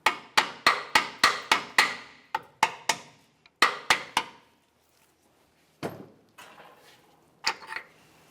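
A hammer strikes a brake hose fitting on a 2001-2005 Ford Explorer Sport Trac: a rapid series of about a dozen evenly spaced sharp metallic blows, then a pause and a few scattered heavier knocks, close and loud.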